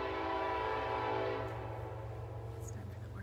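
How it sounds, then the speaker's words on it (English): A train passes nearby, a loud sustained rumble with a tonal horn-like drone that fades gradually over a few seconds. "Our train comes by and it might be kind of loud."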